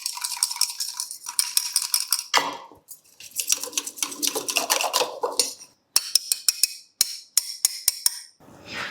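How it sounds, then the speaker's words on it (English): Curd is whisked in a pot for mutton biryani, with quick metallic clinks and tapping against the pot coming in irregular bursts with short pauses, fairly close and moderately loud. "Now I'm going to add the curd, Ilya. This is the curd. Nicely whisk it properly"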